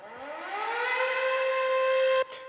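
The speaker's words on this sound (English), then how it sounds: "I dug out the old air raid siren noise." An air raid siren sample played on an Electribe 2 winds up from a low growl to a loud, sustained wail, then cuts off abruptly near the end.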